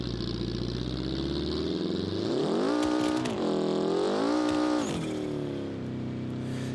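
A Volkswagen Beetle tuned to about 1,000 horsepower in BeamNG.Drive roars close up, the engine droning and then revving hard in rising and falling sweeps with some tire noise, with no voices.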